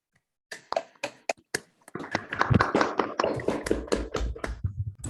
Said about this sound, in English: Let's all unmute ourselves for just a second and give Walter a round of applause.